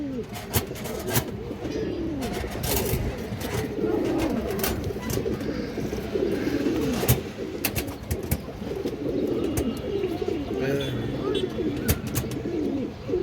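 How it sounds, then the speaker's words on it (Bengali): Giribaj high-flyer pigeons coo steadily in soft rolling murmurs, with scattered clicks and shuffling nearby and occasional voices in the background at a pigeon sale. "এই যে দেখেন কবুতরটা"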